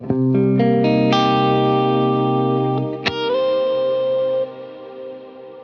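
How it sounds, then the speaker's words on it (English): Clean electric guitar chords from a Fractal amp-modeler preset ring out with lush reverb, sustaining and blooming into a spacious tail, a few strums layered over one another. "Here's the tone with just the beautiful reverb."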